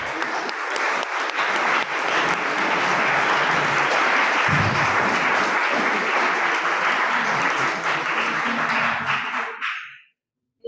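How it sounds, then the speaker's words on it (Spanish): Audience applause after an afternoon talk on Social Security at CCH Naucalpan, a loud dense burst of many hands clapping that holds steady for about nine seconds, then fades out quickly into silence. "un fuerte aplauso, por favor."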